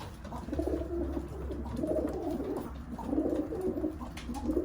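Several pigeons in a coop coo in low, throaty, overlapping calls, close by and steady, with a faint rustling hum underneath.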